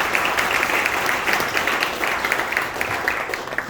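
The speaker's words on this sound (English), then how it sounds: "So give them a round of applause." An audience claps for volunteers in a sustained round of loud, dense applause, many hands overlapping into a steady roar with occasional sharper individual claps.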